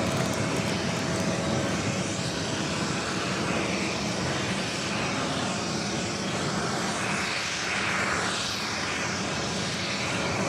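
An airliner on flight 601 departs from JFK, a sustained engine roar that swells slightly toward the end, moderately distant, with no voices.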